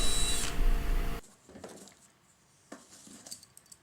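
A power drill pre-drills hinge holes in wood, a loud whirring burst that cuts off abruptly, then a few faint clicks and taps of handling.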